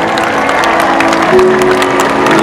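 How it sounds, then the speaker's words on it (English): Loud, dense audience applause and crowd noise in the stands at a SeaWorld San Diego orca show, a continuous wash of clapping with a faint tone running underneath. "Let's give her a big round of applause."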